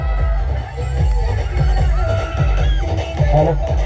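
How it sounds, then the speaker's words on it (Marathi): Loud crowd cheering for the HPL Hativ team after its tournament final win, with shouts and whoops over a steady, rhythmic pounding beat, close and continuous. "तो जल्लोष इथे होतोय आणि तो विजयाचा जल्लोष इथे पाहायला मिळतोय"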